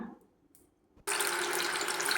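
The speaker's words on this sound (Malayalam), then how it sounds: "ഇനി ഒരു പാത്രത്തിലേക്ക് കായ വറുത്തെടുക്കാൻ ആവശ്യമുള്ളത്ര എണ്ണ ഒഴിച്ചു കൊടുക്കാം" A sudden steady rush of cooking oil pouring into a pan for frying banana chips begins after a second of near silence, continuing loud and even to the end.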